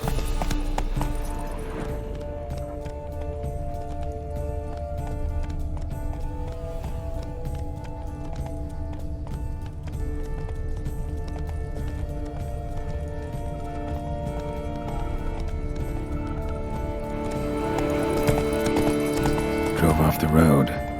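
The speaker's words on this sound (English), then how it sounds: "Horses must have gotten spooked." Spooked horses galloping in The Witcher 3, with steady rapid hoofbeats and occasional neighs over a sustained musical score, and voices speaking at points.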